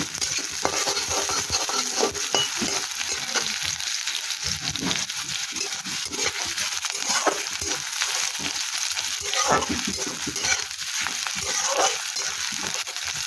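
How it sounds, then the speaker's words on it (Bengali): Onion nearly done frying keeps up a loud, even sizzle in the pan, while repeated scraping and knocking strokes of a spoon stir it over a long stretch with no voices. "দেখো আমার পেঁয়াজটা কিন্তু ভাজা হয়ে যাচ্ছে প্রায়"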